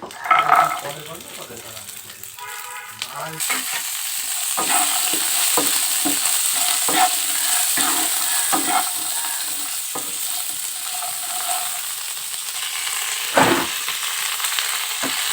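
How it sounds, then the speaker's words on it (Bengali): Green peas and raisins frying in a pan over low flame for Basanti pulao, a steady close sizzle with scraping stirs and clinks throughout after a brief quieter opening. "এবারে কিছু কড়াইশুটি দিয়ে দেবো এর ভিতরে"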